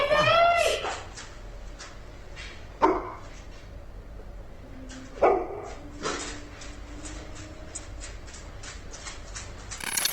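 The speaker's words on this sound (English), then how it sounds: "the dog's whimpers echoing throughout the house" A dog whimpers and yips inside a house at night, the thin cries echoing faintly through the rooms, with a few louder sharp bursts among quieter stretches and some brief voice-like sounds.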